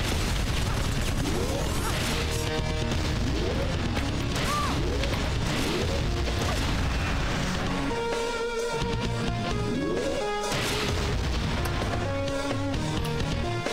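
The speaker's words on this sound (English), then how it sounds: "This time he shot the rocket first." Rocket fire and explosions in the Iji video game, with repeated whooshing launches, crashing blasts and mechanical clanks over a steady loud backdrop of game music.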